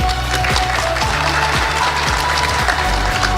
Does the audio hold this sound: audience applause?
yes